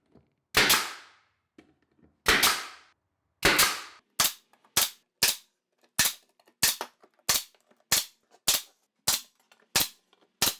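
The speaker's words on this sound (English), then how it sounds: "first we're going to start to nail the wood together and install the trigger system" A hammer drives nails into a wooden box for a mouse trap, producing about sixteen sharp, close, ringing strikes. They start slow and separate, then fall into a quick, even rhythm, with no talking.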